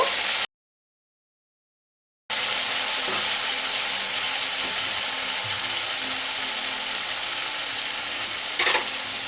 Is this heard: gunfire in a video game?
no